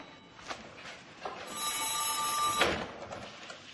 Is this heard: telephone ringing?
yes